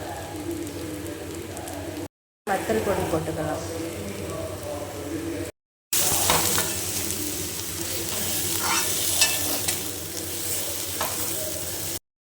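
Fried fish pickle being stirred together with chilli powder in a pan, a steady scraping and sizzling texture that runs throughout, broken by two brief silent gaps, with some talk over it.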